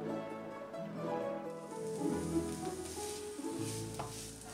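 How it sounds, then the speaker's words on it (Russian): Pickled cucumbers sautéing in a pan for solyanka make a soft sizzle with stirring scrapes, faint and close. "Отправляем наши огурцы к зажарке."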